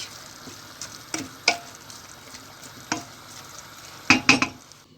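Spinach cooking in a pan while being stirred, scattered scrapes and light metallic clinks over a soft steady sizzle, with a quick cluster of clinks near the end, close up and without any voices.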